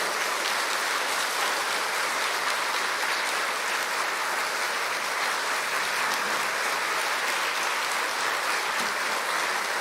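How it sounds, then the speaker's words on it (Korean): Steady, dense applause from a church congregation welcoming the senior pastor to the pulpit at a discipleship seminar, loud and continuous throughout with no talk over it. "우리 목사님 나오실 때 여러분 큰 박수로 환영하겠습니다"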